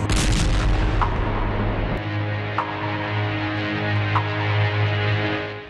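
Heavy, rumbling artillery fire on villages in Fuzuli and Jabrayil, with a dense low boom at the start, then a steady low roar broken by a few sharp distant thuds.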